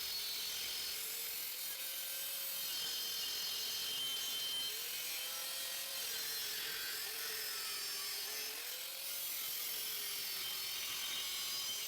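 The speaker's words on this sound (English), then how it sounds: "based off those measurements I cut this piece of aluminium square tube" A piece of aluminium square tube is cut for a fabricated transmission mount on a 1.8T 6-speed swap, making a steady, continuous rasping saw noise that runs the whole time with no talk.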